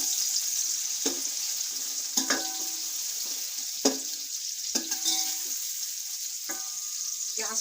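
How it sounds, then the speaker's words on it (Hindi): Sliced onions frying lightly in a pan for white kofta give a steady close hiss, punctuated by several sharp metallic clinks and scrapes of a spoon stirring against the pan. "प्याज डाल देंगे और इसको हल्का फ्राई करेंगे, ज़्यादा डार्क नहीं"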